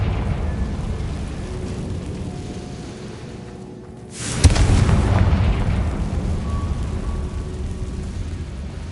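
A single loud blast from the Confringo spell in a video game bursts out midway, rising over a steady background rumble and then trailing off in a sustained roar.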